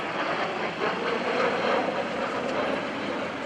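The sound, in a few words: aerobatic airplane engine at an airshow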